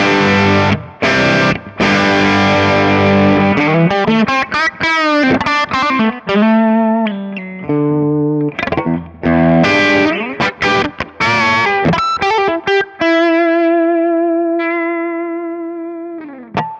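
Heavily distorted electric guitar through a Kemper profile of a 1976 Marshall Super Lead JMP plays loud, crunchy riffs and chords with brief pauses, ending on long sustained notes.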